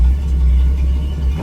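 A 1972 Ford F100 truck engine holds a high idle, a loud, close, steady low rumble with no break.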